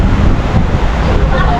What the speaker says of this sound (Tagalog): Ayan ang tunog ng dagat mga boss, narinig niyo yan.